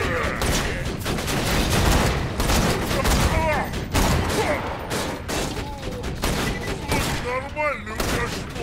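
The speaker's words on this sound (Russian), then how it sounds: "Автоматическая турель готова к стрельбе." An automatic turret in Borderlands 2 fires dense, continuous bursts amid battle noise, loud and steady across the whole stretch, with voices speaking in the background.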